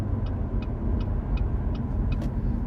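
A Cadillac ATS-V four-door sedan with a twin-turbo 465 hp engine drives steadily, its low road and engine rumble filling the cabin while a turn-signal-like ticking repeats evenly over it.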